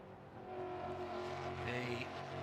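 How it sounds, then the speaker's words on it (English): A Ford Mustang Coyote V8 race car at full throttle on a flat-out blast through the trees at Road America, a distant engine drone rising in pitch, heard faintly from afar. "Coyote V8 engine sounding wonderful through the trees in that flat out blast down through towards Canada Corner"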